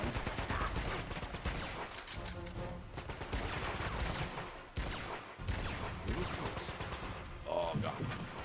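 Sniper fire in Uncharted: Golden Abyss, loud gunshots and rattling bursts filling the scene continuously with brief lulls, battle sounds dense and close.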